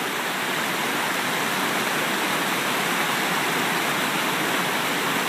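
Tails Creek rushing into Carter's Lake on a summer morning, a loud, dense, unbroken roar of flowing water heard up close with no voices over it.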